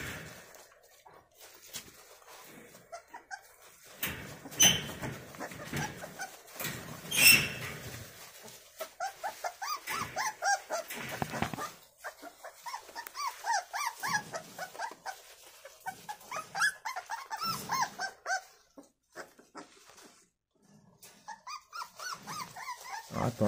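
Several dogs in a yard barking, growling and whimpering, with bursts of rapid barks and yips alternating with brief lulls, close and fairly loud.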